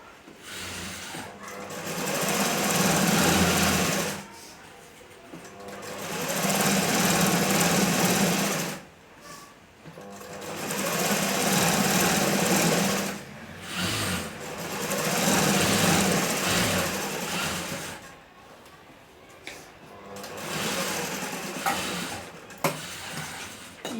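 A sewing machine stitches fabric while a kunchigi is sewn. Its motor whirs in several long bursts, separated by short pauses, at close range with no talk.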